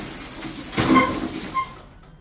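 A diesel commuter train hisses and squeals faintly as it eases to a stop at Lysychansk station, with a brief burst of air and metallic screeching fading out.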